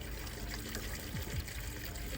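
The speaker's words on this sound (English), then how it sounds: "It's leaking like crazy." Liquid trickles and pours steadily out of a leaking tire, a continuous wet gurgling stream at close range with no talking.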